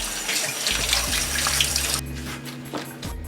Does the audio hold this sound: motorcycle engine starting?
no